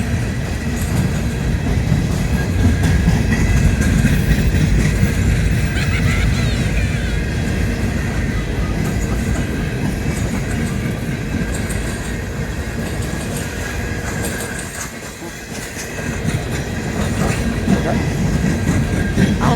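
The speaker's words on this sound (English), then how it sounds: "Coal train in the snow." A coal train rolls past in falling snow, a loud continuous rumble with wheel clatter and rail noise, dipping briefly before swelling again as more cars go by.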